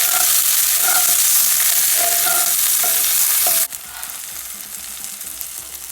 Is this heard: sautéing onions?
yes